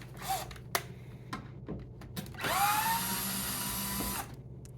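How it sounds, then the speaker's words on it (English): A power drill backs out the cover screws on a PowerPak, with a few short motor bursts and clicks followed by a sustained whirring run of over a second that stops abruptly. "remember to remove these three screws so that you can take off the cover"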